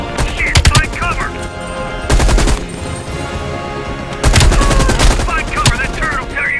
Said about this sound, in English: Find cover, that turret will tear you up!